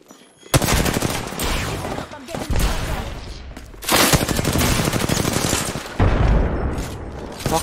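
Gunfire in GTA V gameplay, sustained bursts of rapid automatic shots in three loud volleys separated by brief lulls, close and dense, with some talk mixed in.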